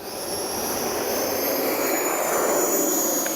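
An E-flite 90mm Viper RC jet taking off, its ducted fan producing a loud, steady high-pitched whine and roar that holds throughout.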